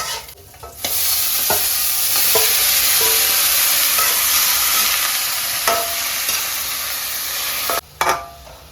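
Bitter gourd (ampalaya) sizzles loudly in a hot pan, a steady close frying hiss with occasional stirring scrapes and clinks, briefly cutting out near the end before resuming.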